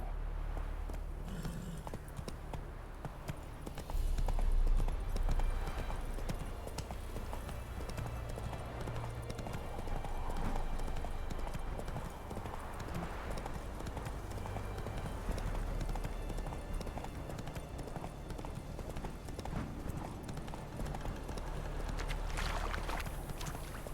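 Horse hooves clip-clopping at a steady walking pace in the video game The Witcher 3, a continuous rhythmic hoofbeat over a low ambient background.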